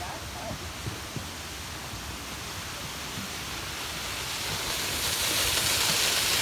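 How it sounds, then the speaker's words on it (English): Steady broadband roar of Drift Creek Falls waterfall in Oregon heard from a suspension bridge high above, a constant rushing wash that grows slightly louder toward the end. "So this is the waterfall from overlooking it from the suspension bridge."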